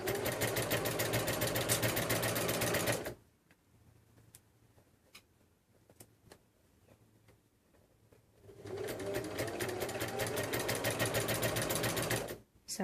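A sewing machine stitches quilt binding in two bursts of rapid, steady, close mechanical whirring, split by a quiet pause of several seconds with faint ticking handling sounds.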